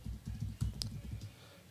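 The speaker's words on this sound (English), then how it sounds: "that's me viciously typing to find out" Fast, vigorous computer keyboard typing, a run of sharp key clicks close to the mic over a low murmur of background noise.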